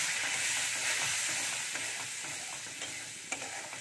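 Ginger-garlic masala paste fries and is stirred in hot oil, a loud continuous sizzle and hiss close up with faint scraping of the spoon throughout.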